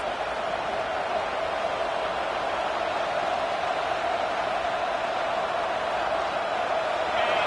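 A home stadium crowd in the College Football 26 video game roars steadily on third down, a dense, unbroken wall of cheering noise that holds at one level throughout.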